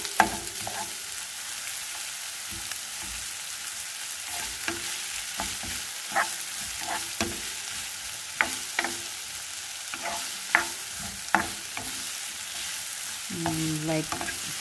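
Chicken with ginger and shiitake mushrooms stir-frying in a pan over medium heat: a soft, steady sizzle broken by scattered scraping and clinking taps of a utensil, with a brief louder scrape near the end.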